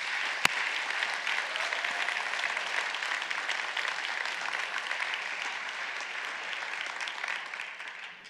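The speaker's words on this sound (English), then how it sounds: "huge round of applause?" A church congregation applauding during a service, a dense, sustained wash of many hands clapping, evenly steady and slightly distant, fading a little toward the end.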